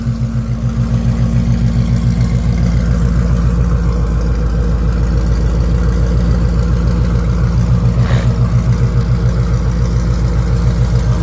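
A Mustang GT idles through new Borla mufflers, giving a loud, close, steady loping exhaust pulse that holds throughout with no talking.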